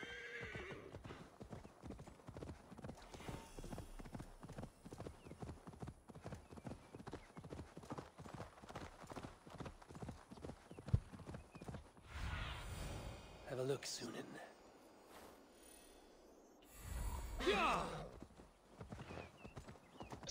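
Horse hooves clip-clop at a steady trot with whinnying neighs in Assassin's Creed Valhalla gameplay, carried under game voices and ambient sound before quieter, bursty moments near the end.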